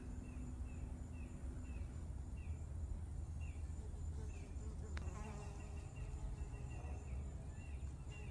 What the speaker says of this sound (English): I have a bee that I call Ugly Bee, and he hovers